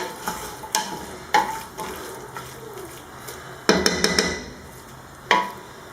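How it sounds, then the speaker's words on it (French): Spoon stirring white beans in sauce in a pot on the stove, producing irregular clacks and scrapes against the pot over a soft sizzle, with louder bursts of clattering near the end. "Je vais remuer juste 5 minutes de"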